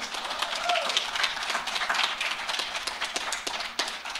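A church congregation at a semi-annual business meeting claps for a returning couple, a loose, uneven patter of hands with distinct individual claps, moderately near, with some voices mixed in.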